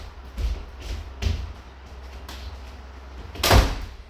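An indoor door is shut during a pilates session on a hot day, giving a few dull thuds and knocks followed by one louder closing thump near the end, with no voices over it.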